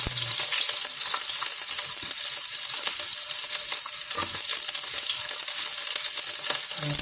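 Squid seasoned with salt, soy and oyster sauce frying in a pan, giving a steady, close crackling sizzle with faint stirring scrapes throughout.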